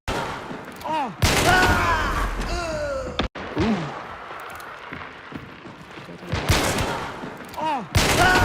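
Gunfire from the Hunt: Showdown video game, with a few loud sharp shots standing out amid game noise and some talk.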